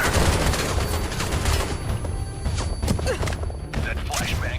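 Dense, continuous video game gunfire mixed with crashes and explosions, loud and chaotic throughout, with a voice faintly mixed in.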